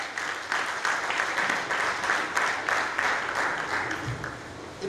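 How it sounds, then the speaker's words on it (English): Sustained audience applause at a youth symposium in Lagos State, honouring the governor; steady dense clapping from a sizable crowd holds at an even level throughout, with no talk over it. "Can we please give the governor a round of applause?"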